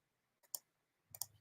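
A pair of sharp computer mouse clicks on a new search button, two brief separate taps about two-thirds of a second apart, close and alone in a quiet room.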